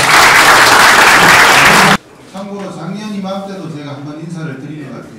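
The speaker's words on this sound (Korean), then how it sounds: "박수 한번 주세요, 우리 의원님들한테." Applause for lawmakers at a National Assembly fishing regulation forum, a loud, dense burst of clapping from a large audience lasting about two seconds before cutting off abruptly, then someone speaks.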